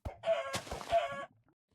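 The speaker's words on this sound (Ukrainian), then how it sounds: "у нас є кури" A rooster-like crow or loud chicken call from chickens in Minecraft Java Edition 1.12.2 rings out once for about a second, fairly close and clear, then fades into quiet.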